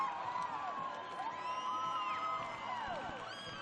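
At a Utah State vs Southern Utah college gymnastics meet, an arena crowd cheers and whoops at a distance, with rising and falling shouts and whistles forming a steady, fairly faint roar.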